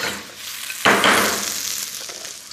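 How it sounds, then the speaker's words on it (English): Beef fillet sears in olive oil in a very hot pan for beef stroganoff, with a low hiss that bursts into a loud sizzle about a second in, then slowly fades. "We want a very high heat on this pan as we need to sear the meat"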